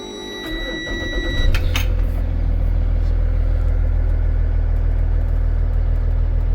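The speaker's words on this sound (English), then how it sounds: "So we're going to go ahead and fire up the bus." Bus engine cranks with a short clatter and catches, then settles into a loud, steady low-pitched diesel idle that continues to the end, close to the listener.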